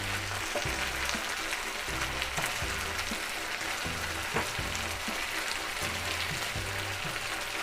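Lemon pepper chicken pieces fry in a pan with a steady, dense sizzle that runs the whole time, and low rhythmic thumps underneath.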